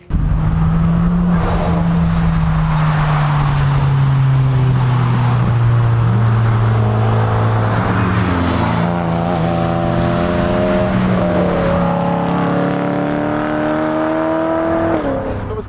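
Race cars on a track day circuit roar past loudly, engines droning and rising in pitch through upshifts as they accelerate, one car's tone sweeping up over another's, continuous for the whole stretch.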